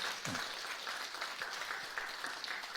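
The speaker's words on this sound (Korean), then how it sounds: "우리 박수로 격려하겠습니다" Church congregation clapping in encouragement after a testimony at a Sunday service, a faint, even patter of hands sustained across the moment, heard from a distance in a reverberant sanctuary.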